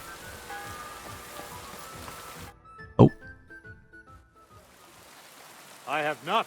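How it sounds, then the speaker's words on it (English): Steady rain hisses in Kingdom Come Deliverance 2 for a few seconds, then drops away almost to silence. A sharp thump follows, and a voice speaks briefly near the end. "Oh, it's raining."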